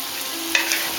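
Mussels, shrimp, onions and garlic frying in a paella pan, with a steady close sizzle and a couple of brief stirring scrapes.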